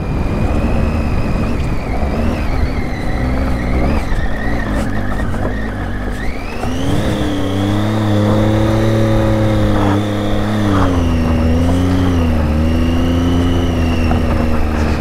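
An off-road motorcycle climbs uphill in first gear in Ladakh, its engine droning loud and close, then revving higher and wavering in pitch as it strains up the slope, with wind noise throughout.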